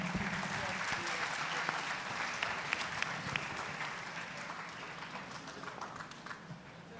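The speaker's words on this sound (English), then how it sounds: "A huge round of applause for Sir." An audience at a policy conclave in 2026 gives a sustained round of applause, dense clapping filling the hall that gradually thins toward the end, with voices mixed in.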